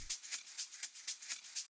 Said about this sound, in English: Now some shakers like these.